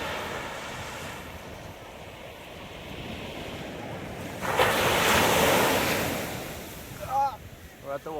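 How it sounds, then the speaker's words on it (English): Ocean waves wash onto a beach, a steady surf roar that swells loudly midway, with wind rumbling against the microphone and a few voices briefly at the end. "We're at the water."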